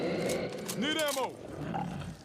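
Tallboy monster in Back 4 Blood lets out a short guttural roar with a rising then falling howl, heard amid game noise and under nearby talking.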